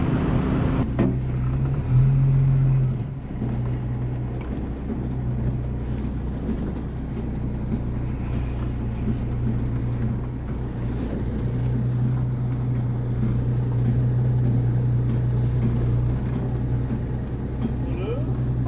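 A Studebaker M series truck rolls along on wobbly wheels at around 25 mph, its engine a steady low drone with some wind rumble throughout, loud and close from inside the cab.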